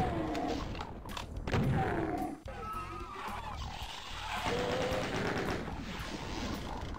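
Enemy gunfire in Doom 2, with bursts of shots and sharp impacts mixed with creaking mechanical game noises and whines, moderately loud and continuous throughout.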